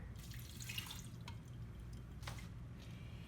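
Water pours steadily into a blender jar, a continuous splashing trickle with a few brief higher splashes, close by and with no talking.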